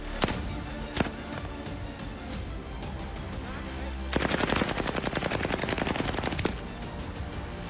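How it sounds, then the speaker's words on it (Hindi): Rapid bursts of automatic gunfire from Pakistani army troops firing on protesters in Balochistan crackle over a noisy background, with a couple of isolated shots early on and a dense volley toward the end. "फौज ने इन्हें घेर कर गोलियां बरसाईं।"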